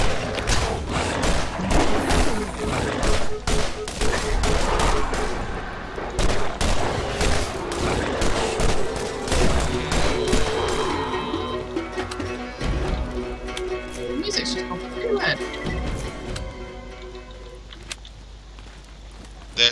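A Scorpio turret fires in Borderlands with dense, rapid bursts that hammer away loudly for about ten seconds, then thin out into scattered shots and quieter game noises.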